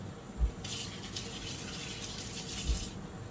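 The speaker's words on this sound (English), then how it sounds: "I'm going to wash my hands again." A kitchen water tap runs for about two seconds as hands are washed during cooking, a steady rushing hiss between soft handling bumps, with no talk.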